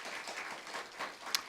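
A church congregation gives a brief burst of steady, moderately distant applause, many hands clapping together in a soft, even patter.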